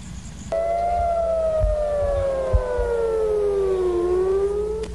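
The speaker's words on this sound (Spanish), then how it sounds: "Cuando hay ataques, suenan las sirenas." An air raid siren sounds during attacks, a loud steady wail starting after half a second and slowly falling in pitch, then rising again near the end, with low rumbling noise underneath.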